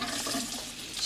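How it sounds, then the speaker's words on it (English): Tap water runs into a sink to rinse off glass etching cream, a brief, steady splashing rush that sits close and fairly loud, with no talk over it. "I'm going to turn on my water and I'm going to rinse it"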